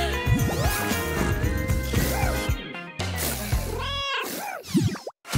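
A kitten gives several short, high meows amid busy cartoonish sound effects and bright music, with a few sharp knocks and swishes mixed in.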